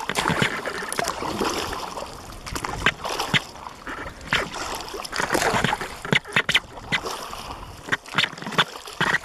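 Small kayak paddled through very shallow water, with repeated close splashes and sloshing paddle strokes in an irregular rhythm, plus faint movement noise throughout.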